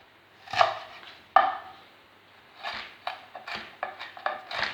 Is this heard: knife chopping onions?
yes